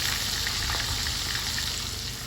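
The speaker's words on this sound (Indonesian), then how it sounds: "di sini saya goreng lagi sisaan tahunya" Leftover tofu sizzles steadily in hot oil in a home kitchen, a dense, even crackle that continues loudly throughout with no speech.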